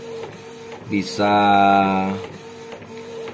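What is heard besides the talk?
Canon IP2770 printer printing on art paper with Dyeart ink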